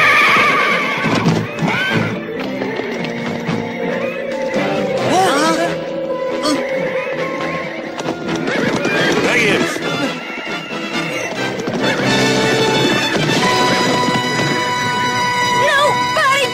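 A horse neighs and whinnies amid a loud, busy mix of music and commotion, with shrill calls rising over the din.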